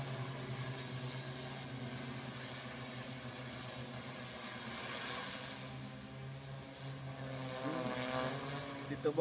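An agricultural spraying drone works over a sugarcane field, its propellers giving off a steady, droning buzz that holds even and continuous throughout, growing slightly louder near the end.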